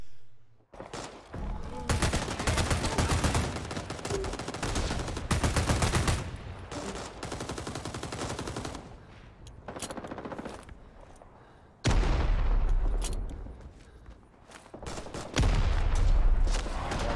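Automatic gunfire from a team-based shooter video game, with sustained machine-gun bursts including a PPSh submachine gun, loud and dense with brief pauses between volleys.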